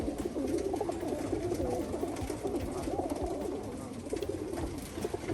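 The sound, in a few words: racing pigeons cooing in loft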